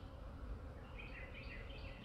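Honeybees buzzing around an opened hive during a beekeeping inspection: a faint, steady low hum of many bees with no speech over it.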